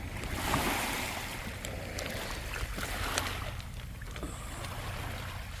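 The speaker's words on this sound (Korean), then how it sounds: "이 파도가 치잖아요." Sea waves washing onto a beach of coarse pebbles, a continuous broad rushing wash that swells and recedes, with gravelly rattling at moderate distance and no voices.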